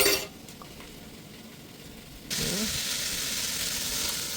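Fresh garlic and vegetables sizzle in a pan while stir frying for homemade chicken soup, a steady loud hiss that starts abruptly as food hits the hot oil and continues without letup.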